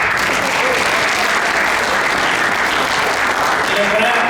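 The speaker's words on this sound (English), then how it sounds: "Give yourselves a nice round of applause too." Audience applause at a 2025 inauguration ceremony in Derby, a steady, dense wash of clapping filling the room at close range and continuing without a break.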